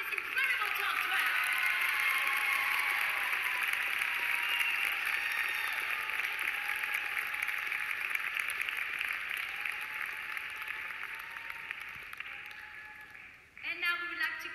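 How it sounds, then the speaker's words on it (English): At a ballet competition awards show, sustained audience applause for the top 12 dancers fills the hall evenly, slowly fading toward the end before a brief burst of other noise. "Ladies and gentlemen, a round of applause for this incredible top 12."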